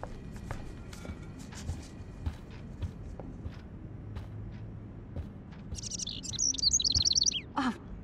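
Small bird chirping in the Life is Strange video game, a quick burst of high tweets near the end over faint footsteps and quiet background rumble, with a few soft taps earlier.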